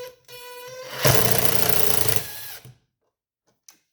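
A handheld impact gun drives a jack nut into Honda EF Civic/CRX cowl hardware held steady with pliers, a dense loud burst of about one and a half seconds after a lighter whirring start, then silence with a faint tap.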